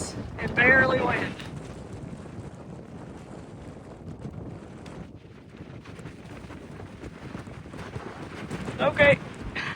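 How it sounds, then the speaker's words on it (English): Strong gusts buffet the microphone on a rocky outcropping along a wilderness ridge trail, a roaring, uneven wind that swells loudest at the start and end, with a person talking over it. "I came out to this little outcropping and the wind is blowing me over."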